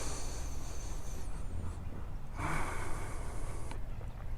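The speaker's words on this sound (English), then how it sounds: "Long, deep breathing here." Long, deep meditation breathing with the stomach held tight: a drawn-out, airy breath heard close up, then a pause and a second strong breath, with no talking.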